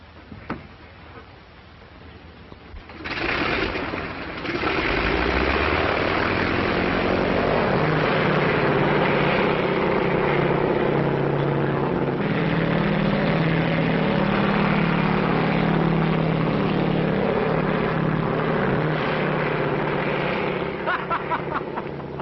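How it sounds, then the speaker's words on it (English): A 1930s propeller airplane engine starts and settles into a steady, loud drone that holds as the aircraft runs up before takeoff. "Hey, Bill, you going to take off?"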